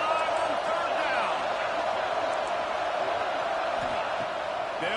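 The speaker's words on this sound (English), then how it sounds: "The Buckeye crowd alive on third down." A roaring Ohio State Buckeyes home stadium crowd on third down in a college football video game, a steady, loud wall of cheering and noise that runs throughout beneath a commentator talking.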